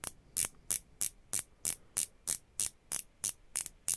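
A San Martin watch bezel being turned gives a dozen sharp, evenly spaced ratchet clicks, crisp and close with near-silence between each click.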